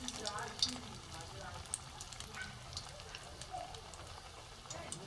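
Bread fritters (bora) fry gently in hot oil in a wok, a soft, continuous crackling sizzle with small pops, faint and steady throughout.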